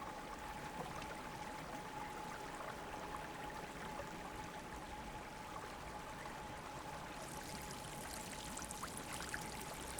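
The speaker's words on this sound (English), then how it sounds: "Places like Yellowstone in the United States, where hot water runs freely." Hot spring water at Yellowstone flowing freely, a faint, steady broadband rush and trickle of running water, continuous and distant-sounding, with a slightly brighter splashing texture near the end.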